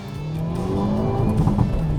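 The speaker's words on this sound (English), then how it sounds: "It's got an awesome exhaust note for a 4-banger." A Hyundai Elantra four-cylinder runs with a steady, raspy exhaust note, holding an even drone that rises slightly near the end, loud and close with no talk over it.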